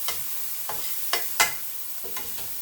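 Vegan vegetable fried rice sizzles faintly in a pan while a utensil stirs it in a few distinct scraping strokes spaced roughly half a second apart.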